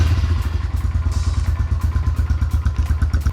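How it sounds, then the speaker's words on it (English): An inexpensive dirt bike fitted with cheap aftermarket parts idles close by, its engine thumping in a steady, loud, rapid rhythm of pulses with a light clatter and no talking. "I actually got the idle to idle pretty good."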